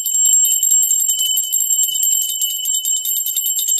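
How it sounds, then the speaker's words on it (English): A bell is rung outdoors on a warm sunny day, giving a continuous rapid high-pitched metallic ringing with sustained bright tones, loud and close, alone without talk. "I'm gonna ring this bell."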